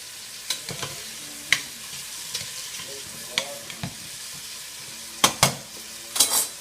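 Tripe cooking in olive oil with salt and pepper, stirred now and then: a low steady sizzle broken by sharp scraping and clacking stirs, several of them spaced out with louder bursts near the end, no talk.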